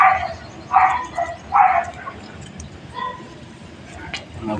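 A few short dog barks or yips in quick succession, moderately close, over a busy background with faint voices and household noise.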